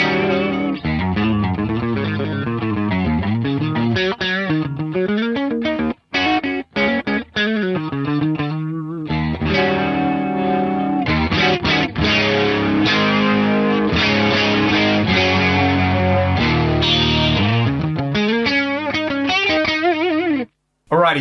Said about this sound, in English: At the moment, I'm just using a Clark Technic BBD 320 for a stereo chorus.